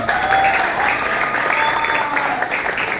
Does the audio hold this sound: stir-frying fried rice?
no